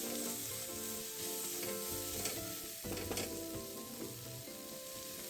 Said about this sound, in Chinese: 接着再将辣椒丝全部倒入，快火炒至断生